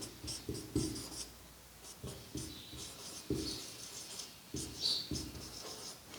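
Chalk or marker scratching out math figures on a board during a percentage lesson, a quick run of short scraping strokes and taps at close range, steady and moderately loud, with no voice over them.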